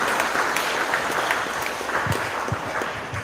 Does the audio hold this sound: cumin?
no